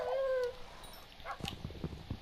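A short, high whine from a dog in the video game Minecraft opens, followed by soft clicks and thuds of gameplay.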